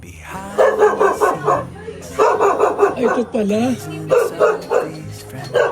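A dog barks in quick repeated bursts, loud and close, with pauses between volleys, while a person speaks briefly.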